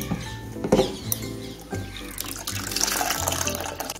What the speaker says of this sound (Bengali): আমি একটু নর্মাল জল দিয়ে ছানাটা ধুয়ে নিচ্ছি